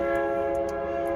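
A passing train sounds its horn in a steady, loud, sustained multi-tone blast over the low rumble of rolling cars, with no voices.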